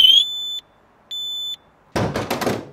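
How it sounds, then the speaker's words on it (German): A BMW 3 Series F31 car alarm sounds a loud electronic tone in two sustained blasts separated by brief silence, followed by a burst of harsh, noisy clattering. "Alarm geht los"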